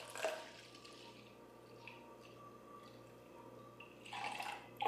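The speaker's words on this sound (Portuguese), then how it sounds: "Eu costumo dar uma lavada com uma água filtrada aqui" Filtered water splashes and trickles while a kefir jar is rinsed, with a short splash at the start and a louder burst of running water near the end around quieter dripping.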